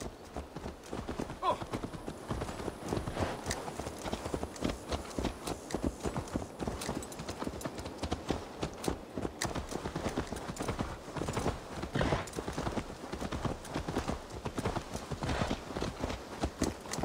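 Steady clip-clop of horse hooves in Assassin's Creed Valhalla throughout, a continuous trotting rhythm at close range, with faint murmuring in the background.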